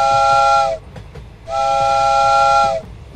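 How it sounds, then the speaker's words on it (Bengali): A train whistle sounds in two long, loud, steady blasts separated by a brief pause. "দূরে ট্রেনের হুইসেল,"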